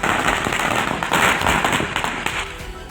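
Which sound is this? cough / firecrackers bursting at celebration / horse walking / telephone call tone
firecrackers bursting at celebration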